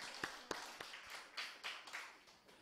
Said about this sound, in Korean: 여호와께 하나님 앞에 영광의 박수 올려드립시다.